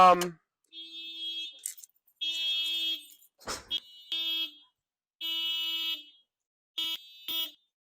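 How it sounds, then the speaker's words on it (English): A car's panic alarm blares in repeated loud, steady electronic tones, each burst lasting about a second with short gaps between, and voices talk briefly at the start and in between. "I think Ant hit the panic button on his car"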